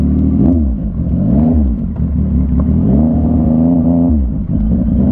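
A loud, close CFMOTO 675SR-R motorcycle engine drones continuously, its pitch rising and falling repeatedly as the bike speeds up and eases off while riding.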